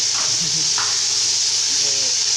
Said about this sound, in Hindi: ये देखें, अभी फ्राई नहीं हुआ, सही तरह नहीं हुआ, आधा हो गया फ्राई।